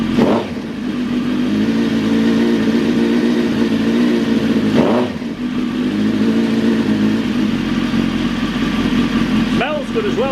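Motorcycle engine idling and warming up with one silencer removed, a loud steady rumble throughout with small throttle blips and someone talking over it.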